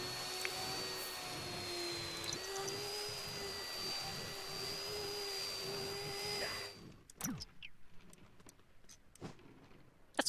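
Vacuum cleaner running in The Sims 4, a loud steady whine and roar with a high tonal hum that cuts off after about seven seconds, leaving quieter clicks and household game sounds.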